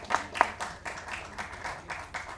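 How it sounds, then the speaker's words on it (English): Scattered audience applause at a trailer launch event, a few sharp claps standing out near the start before settling into a softer, moderate patter of hands at middling distance. "Let's give a round of applause for Kushal Kulkarni"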